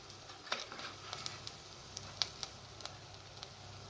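Egg chops frying in hot oil after a batch of onion fritters, a steady close sizzle with scattered sharp pops and crackles throughout.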